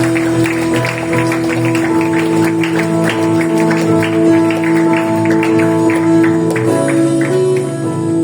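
Church congregation at a multilingual worship service clapping together in steady sustained applause, blended with ongoing music and a loud room ambience throughout.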